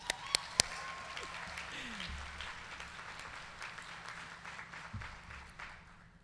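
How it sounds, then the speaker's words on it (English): Graduates applauding themselves at a college commencement ceremony, a soft, distant spread of clapping across a large space, with a few sharp louder claps at the start and faint voices underneath. "Give yourself a round of applause"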